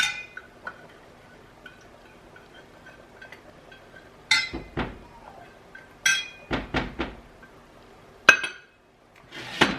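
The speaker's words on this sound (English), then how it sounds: "I'm just gonna stir it and mix it together" A spoon or spatula stirs a sour cream mixture in a bowl for a soup, giving sharp clinks and scrapes against the bowl in irregular bursts, loudest in a quick cluster near the end, with quiet pauses between.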